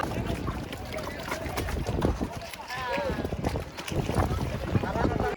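A tourist boat moves on the water near a village and knocks against another boat, with splashing, hull thumps and rushing wind under excited people talking.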